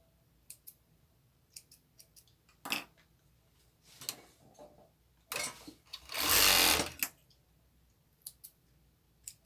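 A sewing machine stitches the tips of a crop top in short, separate bursts with clicks between them, one run lasting longer and louder, heard up close with no talk.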